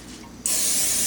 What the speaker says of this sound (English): I'm going to spray it with some Pam so it'll not stick